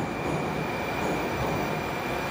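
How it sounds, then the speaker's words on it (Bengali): Inside a Tashkent metro train heading from Amir Timur Square toward Chorsu, a loud, steady rumble of wheels and carriage noise fills the space without letup. "আমির তৈমুর স্কোয়ার থেকে মেট্রো নিয়ে এবার আমরা রওনা দিলাম চোরসুর দিকে।"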